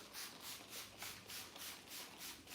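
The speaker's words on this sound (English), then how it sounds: "We're gonna give this guy another good little scrub." Scrubbing a painted furniture surface with a scrubby pad, a faint rhythmic back-and-forth rasp repeating about every third of a second, close and alone.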